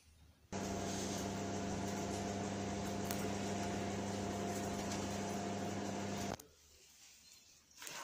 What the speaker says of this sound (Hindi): अब हम इसको जाके माइक्रोवेव में रखेंगे।